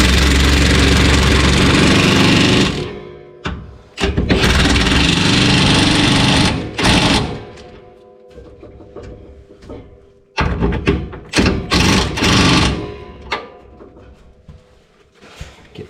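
A power tool buzzes in loud bursts, tightening bull bar bolts on a 1st Gen Tacoma, with stops and short starts between runs and a few clicks in the quieter gaps.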